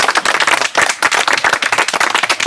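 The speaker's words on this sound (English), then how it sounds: "Can we have a massive round of applause, please?" Dense audience applause fills an interview event, a steady burst of many hands clapping close and loud throughout, with no talk over it.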